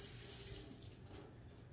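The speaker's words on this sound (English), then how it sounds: "I gotta wash my hands. They are sticky again." Tap water runs into a kitchen sink while hands are rinsed clean of sticky banana bread batter, a soft, fairly quiet steady splash that fades slightly partway through.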